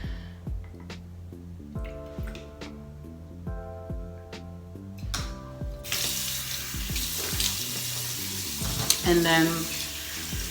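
A bathroom tap runs water steadily while a toothbrush is rinsed, a loud hissing flow that starts partway through after softer clinks and taps, with brief speech over it.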